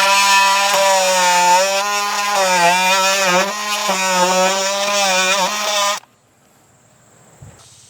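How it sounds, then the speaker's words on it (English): Oscillating saw cutting through a cedar fence board, a loud, close, high-pitched whining buzz with wavering pitch lasting about six seconds before stopping abruptly, followed by near silence. "I can use this oscillating saw to cut through it."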